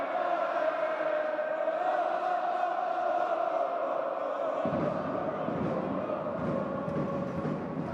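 Football stadium crowd at a Vissel Kobe versus Shanghai Port AFC Champions League match, a steady broad roar of many distant voices that swells slightly and deepens midway, with no clear individual talk.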